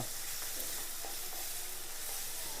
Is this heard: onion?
yes